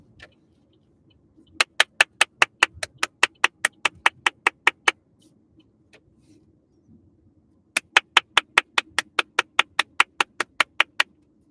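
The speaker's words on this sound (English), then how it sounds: "I'm clapping for myself." Two bursts of steady, evenly spaced hand claps, about fifteen quick sharp smacks each, close and crisp in an otherwise quiet room.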